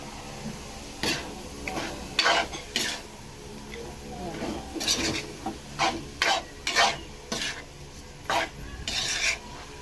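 Salted food stirred in a pan, with repeated scraping and rubbing strokes of a utensil against the metal in an uneven rhythm, close and fairly clear, with faint talk at moments.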